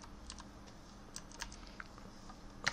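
Soft, sparse keystrokes on a computer keyboard while entering text into a web browser search box, a handful of light clicks over a faint steady background hum, quiet and nearby.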